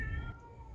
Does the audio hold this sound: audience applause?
no